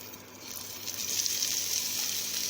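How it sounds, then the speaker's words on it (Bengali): Chopped onion sizzles in a pan of oil with bay leaf, cumin and chilli, a steady close hiss that swells slightly as it settles, with no talking. "এবার একটা কুচিয়ে রাখা পেঁয়াজ আমি এর মধ্যে দিয়ে দেবো"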